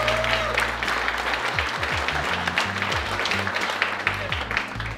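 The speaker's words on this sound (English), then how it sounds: "So a round of applause again for everyone." Applause from an audience at an off-road rally awards gathering in Canada fills the whole stretch, a steady dense roar of many hands with a low droning hum underneath.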